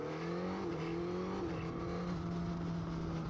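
Suzuki GSX-S1000GX motorcycle rolling on the throttle, its engine note climbing steadily in pitch as it accelerates, fairly faint and continuous.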